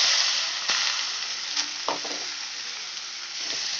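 Chopped onions, three medium ones cut in a chopper, sizzle and fry steadily in a pan for a Durga Puja methi chicken, with a few brief stirring clinks and scrapes over the continuous close hiss.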